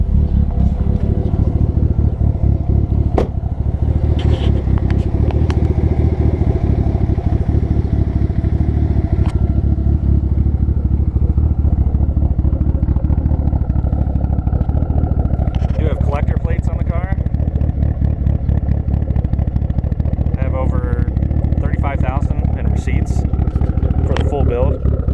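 A modified 2005 Mitsubishi Evo with a Stage 3 motor and a 3582 turbo idles steadily with the hood open, a low, even engine rumble running throughout. Someone speaks over it at times.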